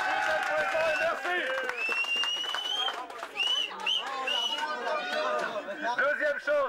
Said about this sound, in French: on va s'applaudir